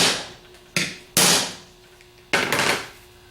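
A hammer strikes a 3/4 socket set up in a vise during an alternator rebuild, ringing out two or three sharp, loud metallic smacks with brief decays, close by and with no talk.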